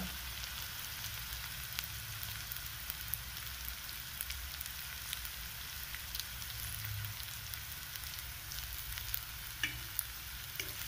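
Egg and potato curry sizzles and fries steadily in a pan while being stirred, a dense continuous hiss with occasional scraping clicks, close and alone with no talk.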